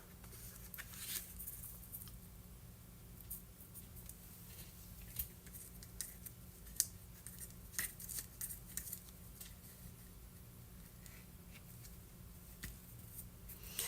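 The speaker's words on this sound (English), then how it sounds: "And let me cut the end here." Scissors snipping the end of craft material while assembling a vintage childhood memories junk journal, with faint, scattered light cuts and paper rustles at a quiet indoor craft table.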